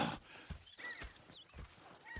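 Horses in the Red Dead Redemption 2 video game clip-clopping with regular hoofbeats and giving a brief whinny, fairly close and loud, with no voices.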